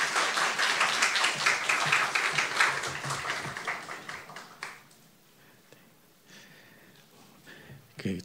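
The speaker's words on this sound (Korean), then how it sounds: "여러분 나오실 때 따뜻하게 박수로 맞아주시기 바랍니다." A Sunday church congregation warmly applauds to welcome the preacher, a full wash of clapping that thins and fades after about five seconds, leaving quiet room noise and a few stray sounds.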